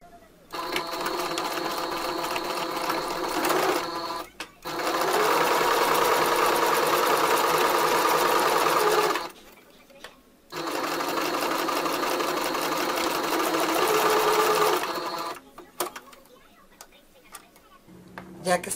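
Sewing machine stitching school trousers along a basting line, three long runs of close, steady mechanical whirring separated by short pauses, with faint light clicks in the gaps.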